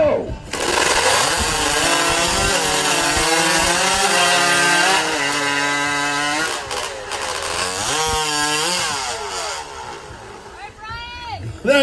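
Timber chopping at a lumberjack competition, with loud sawing and cutting running steadily through the whole stretch while an announcer talks over it.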